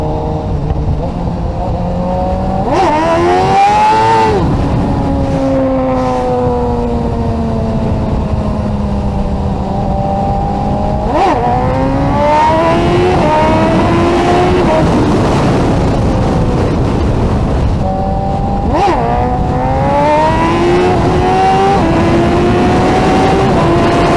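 A 2016 BMW S1000RR sport bike's engine revs loudly and climbs through rising gear pulls, with sharp shifts between long accelerating sweeps and wind rushing past the microphone.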